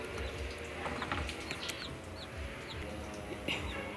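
Domestic chickens of a large mixed Bisaya breed cluck and call in a rural yard, with scattered short clucks and a brief wing flap against a steady background of insects and outdoor ambience.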